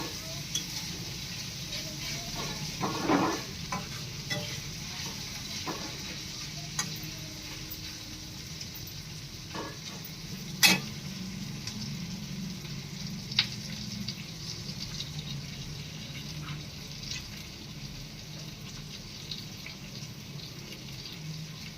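Mustard seeds, cumin and garlic sizzling in hot oil, a faint steady hiss with scattered small pops and one sharp crackle, heard at a distance with no talk.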